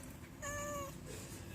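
A mother cat gives a single clear, drawn-out meow in the middle of a quiet indoor moment, fairly close and soft, with faint background hiss before and after.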